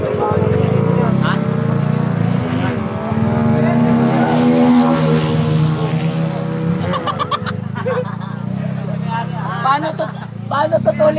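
A motorcycle on a long group ride, the engine's loud, continuous drone and rising-falling pitch dominating close by while people talk over it.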